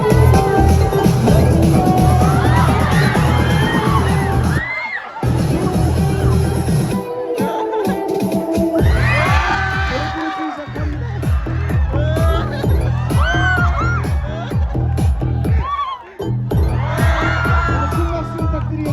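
A crowd cheering, screaming and shouting excitedly, loud and continuous with rising waves of whoops and brief lulls, voices blending into a dense roar throughout.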